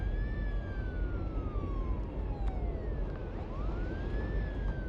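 A wailing emergency siren, rising and falling in long sweeps, blares loud and close over a dense rumbling background in a French-dubbed action-horror film scene, with no speech.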